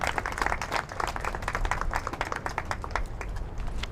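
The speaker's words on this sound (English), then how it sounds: "let's give her a big round of applause" At an Earth Day clean energy rally in Iowa, an audience claps to welcome a speaker, a lively, close stream of individual hand claps from a modest crowd that keeps up steadily throughout.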